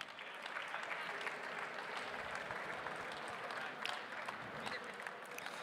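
Sustained applause from an audience celebrating hackathon winners at an awards stage event, steady dense clapping, moderately distant and fairly quiet, with faint crowd murmur underneath.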